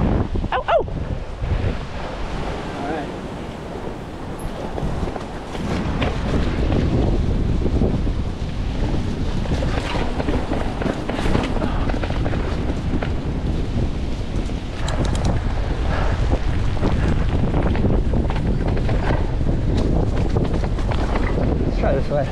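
Gale-force wind roars and buffets the microphone during a downhill mountain bike ride, a loud, unbroken rumble with voices calling out now and then.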